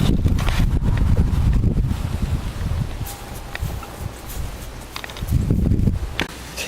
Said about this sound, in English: Pretty windy, guys. I don't know, almost like a storm.